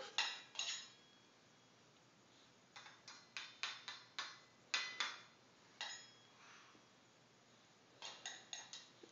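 A child stirs food in a toy pot, metallic scraping and clinking strokes in quick rhythmic clusters with short pauses between, close and fairly quiet in a calm room.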